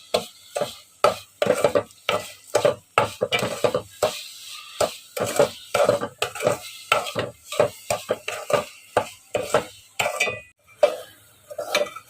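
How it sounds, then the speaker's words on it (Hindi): Curdled milk cooked down with sugar in a pan, stirred with a spoon in steady repeated scrapes and clinks against the metal, a soft sizzle underneath, close and fairly loud with brief pauses. "अब मैं इसे अच्छी तरह भून लूंगी ताकि चीनी मेल्ट हो जाए।"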